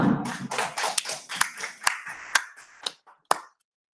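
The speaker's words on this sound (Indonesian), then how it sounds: "Beri tepuk tangan yang meriah buat kita semua" Sparse hand claps from a small audience at the close of a technical meeting for the Yadika 45th anniversary event, about seven or eight separated claps, near and fairly loud, thinning out before silence.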